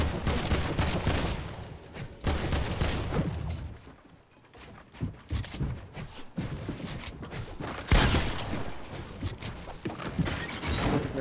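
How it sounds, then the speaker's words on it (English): Video game gunfire in a Fortnite-style solo duo cup match, with dense, loud bursts of rapid shots and impacts that continue almost nonstop apart from a brief lull midway. "Why is that shooting? Shooting here, y'all."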